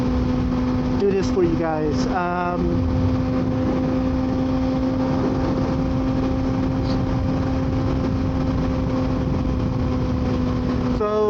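A Kawasaki ZX6R motorcycle engine running at a steady pitch, a continuous droning hum with wind noise, while a rider talks over it at the start.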